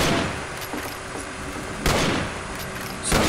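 Rifle fire in a multiplayer video game match, with a few sharp shots and bursts against steady background game noise, including two louder reports near the middle and at the end.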